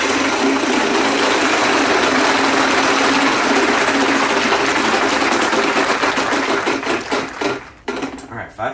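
The prize wheel in a Wheel of Fortune fan game spinning, a loud rapid ticking that slows into widening clicks toward the end before stopping, with voices mixed in.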